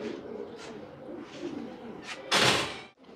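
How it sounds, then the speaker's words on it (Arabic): Pigeons settle onto a rooftop, soft cooing drifting faintly with a few light flutters, then a sharp burst of wing flapping near the end. "الحمام هيك بلشت تحط"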